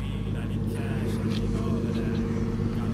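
A Lexus IS300 fitted with 30 mm shortened spindles and JZX arms drives along, a steady low engine and road rumble filling the cabin under faint talk.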